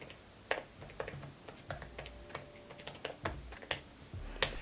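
Close, quiet clicking of keys on an iPad Pro keyboard, irregular taps and clacks in short bursts of typing with brief pauses between strokes.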